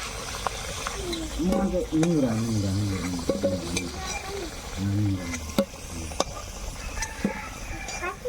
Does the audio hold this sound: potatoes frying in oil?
yes